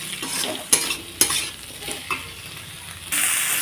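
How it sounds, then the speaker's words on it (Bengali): Pool barb fish frying in a pan with ginger paste, stirred with a utensil: a steady sizzle broken by a few sharp scraping knocks, close and alone, with the frying swelling louder near the end. "এখন এটাকে দিয়েও বেশ সুন্দরভাবে নাড়াচাড়া করবো"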